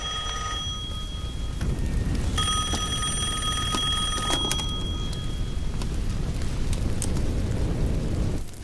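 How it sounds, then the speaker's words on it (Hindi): An electronic phone ring sounds in bursts over a steady, noisy background rumble, with no one speaking. "वो फोन है।"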